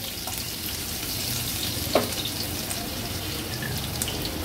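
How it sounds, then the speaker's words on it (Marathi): Seven or eight crushed garlic cloves fry in hot oil as a tempering for an Agri Koli style big prawn curry, giving a soft, steady sizzle that stays even throughout with one brief stir-like clink partway. "लसणाच्या पाकळ्या तेलावर थोड्या परतून घ्यायच्या।"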